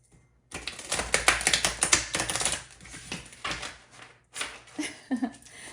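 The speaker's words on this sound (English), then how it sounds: "so let's shuffle this deck." A tarot deck is shuffled up close: rapid riffling bursts, then a few shorter flutters and taps, with no talking.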